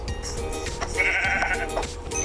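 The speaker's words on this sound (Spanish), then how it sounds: "Dos ovejas." Sheep bleating in the Minecraft video game, a wavering nasal bleat lasting about a second over a busy game soundtrack, fairly loud and near.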